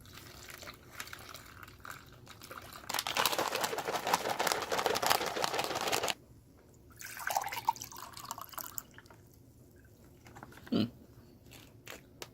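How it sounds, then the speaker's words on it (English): About 12 ounces of cold water pours steadily for about three seconds into a drink mix pouch from a US First Strike Ration MRE, followed by softer crinkling and splashing, then a brief knock near the end. "It says to add about 12 ounces of cold water."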